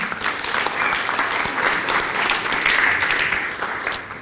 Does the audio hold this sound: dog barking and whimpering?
no